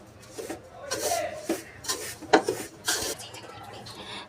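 A spoon stirs and scrapes semolina (rava) as it roasts in a pan for rave unde. The strokes rasp in irregular, repeated bursts, close by and fairly clear.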